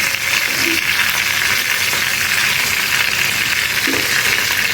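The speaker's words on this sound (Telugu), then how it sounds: "మనకి పచ్చిమిర్చి కానీ ఎండుమిరపకాయలు కానీ కొంచెం వేగితే చాలు." Green and dried chilies fry in a pan for a brinjal raw rasam, producing a dense, loud, continuous sizzle with a couple of faint knocks beneath it.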